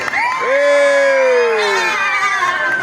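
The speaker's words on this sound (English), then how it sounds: "Come on, you can cheer louder than that" An audience at an amusement park costume show lets out a loud sustained cheer with shouting children's voices, one long swelling whoop near the front that rises, holds and trails off into crowd noise.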